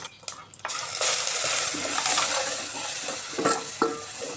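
Steady close-up sizzling of mustard seeds, urad dal, chillies, curry leaves and turmeric frying in hot oil for horse gram rasam, with a few clanks of a spoon stirring against the pan.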